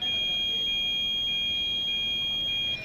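A multimeter's continuity buzzer sounds steadily while car outside-mirror folding wiring on a Hyundai Xcent is tested, a continuous high-pitched electronic tone lasting nearly three seconds and cutting off abruptly, loud and alone.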